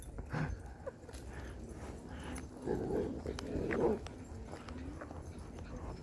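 Dogs romp at an outdoor dog park, including a Caucasian Ovcharka and a part-husky, with scuffling paws, a few faint whimpers and movement noise over steady ambient background, fairly distant and low in level.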